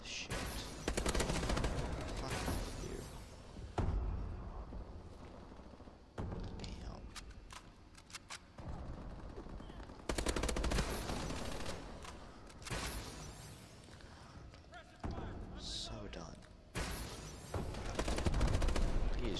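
Rapid gunfire bursts from the video game Call of Duty: Advanced Warfare, loud and dense, in repeated volleys with short breaks, with a player talking at times over the shooting.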